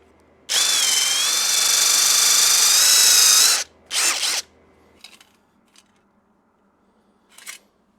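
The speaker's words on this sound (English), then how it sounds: "Let me get this drilled." A Ryobi power drill bores a hole for a button, a loud steady high whine for about three seconds, then a short second burst, followed by a few faint clicks and taps.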